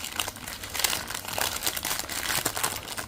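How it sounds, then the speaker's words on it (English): Crinkling and tearing of packing tape being pulled off a straight-razor parcel at close range, a steady run of scratchy, papery crackles with no talk. "so I'm not good at pulling tape off"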